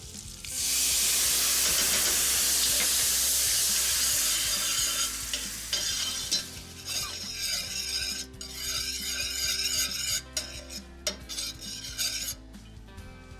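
Balsamic vinegar bubbling and sizzling in a large skillet over medium heat, a loud steady fizz at first that thins into intermittent crackles with occasional utensil scrapes and clinks.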